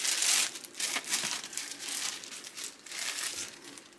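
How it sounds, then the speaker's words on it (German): Plastic shopping bags are handled and crinkled close up in a run of bursts of rustling and crackling that swell and fade over a few seconds, with no talking. "Ich mach mal die Tüten hier vorne hin."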